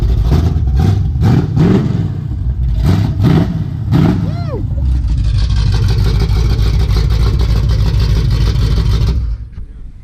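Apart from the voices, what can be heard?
loud car engine revving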